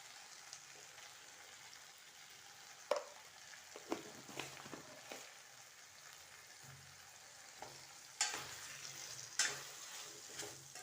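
Mushroom gravy being stirred in a pan, a soft, low simmering hiss broken by intermittent spoon scrapes and taps against the pan.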